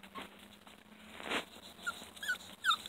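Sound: puppies whimpering

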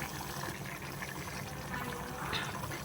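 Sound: ghee being poured onto rice

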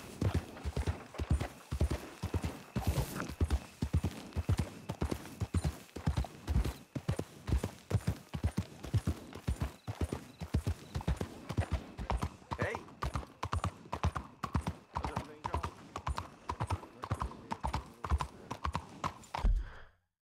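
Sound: horse hooves while riding in video game Red Dead Redemption 2

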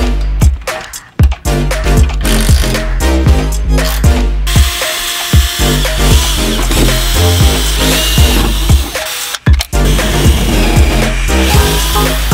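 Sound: power tool cutting Honda S2000 chassis for seat backing plate

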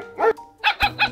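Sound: chihuahua barking in a video game

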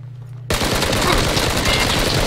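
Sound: gunfire in the PUBG video game

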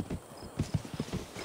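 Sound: horse hoofbeats in the video game RIFT

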